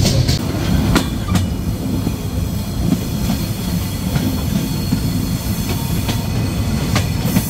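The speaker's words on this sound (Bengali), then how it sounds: "ট্রেনটি প্রবেশ করছে ঈশ্বরদী বাইপাস স্টেশন।" The Silk City Express rumbles steadily into Ishwardi Bypass station, Bangladesh, with rhythmic clacking of wheels over rail joints and occasional metallic squeals, loud and close throughout.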